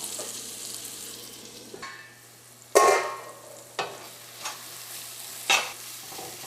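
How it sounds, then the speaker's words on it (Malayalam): Tomatoes cook over a low flame for Karaikudi chicken curry with a soft, quiet simmer and light sizzle. A few louder stirring scrapes and clanks come at scattered moments, and no one speaks. "ഇനി നമുക്കൊരു ലോ ഫ്ലെയിമിൽ ഇട്ടിട്ട് ഈ തക്കാളി നമുക്ക് ഏറ്റവും ആദ്യം നന്നായിട്ടൊന്ന് വേവിച്ചെടുക്കാം"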